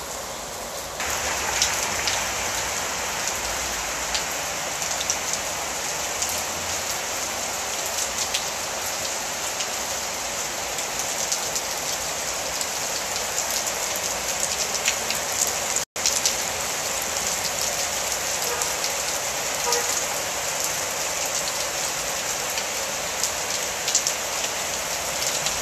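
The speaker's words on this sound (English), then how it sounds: "I think I'm just going to sit back and enjoy the rain for a little bit" Steady rain falls outdoors in Merida, Mexico, a continuous hiss of drops hitting surfaces, even and moderately loud throughout with no talk.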